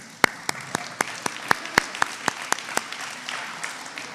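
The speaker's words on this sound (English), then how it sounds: "a big round of applause to you all" Applause at the closing of an AgriTech hackathon awards event: sparse, distinct individual claps in a steady rhythm, about a dozen sharp hits over a few seconds, moderately near against a quiet room.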